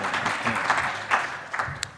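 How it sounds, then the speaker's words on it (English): Scattered audience applause at a high-level policy dialogue event in Rwanda, a ragged burst of clapping mixed with some murmuring voices, fairly close and moderately loud, rising briefly before thinning out. "so you could clap harder."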